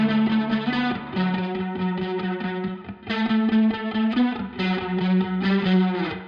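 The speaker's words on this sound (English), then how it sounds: "It's played on the bass with a lot of distortion." Heavily distorted bass guitar riff in a post-punk style, thick and saturated with effects, playing a repeating pattern that restarts around three seconds in, loud and alone with no voices.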